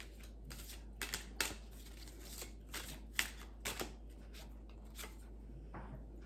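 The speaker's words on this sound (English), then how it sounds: "Felt called to pull some cards." Tarot cards being shuffled and pulled from the deck in a quiet room, a run of soft papery riffles and flicks coming in close, irregular bursts with no voices.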